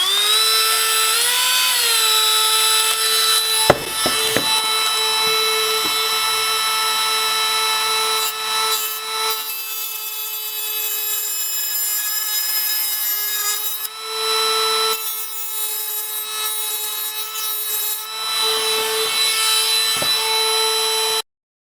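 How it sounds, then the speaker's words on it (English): A Dremel rotary tool with a cutting wheel spins at high speed and cuts through a motor shaft for a tricopter build, giving a loud, sustained high-pitched whine that dips briefly several times under load. "spin up your Dremel with the cutting tool"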